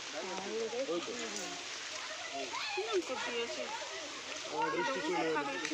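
Steady rain falls as a soft, continuous patter beneath people talking nearby.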